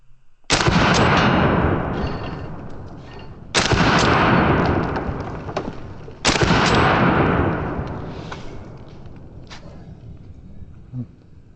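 Benelli M4 semi-auto shotgun firing double-aught buckshot, three loud booming shots spaced a few seconds apart, each with a long rolling echo outdoors.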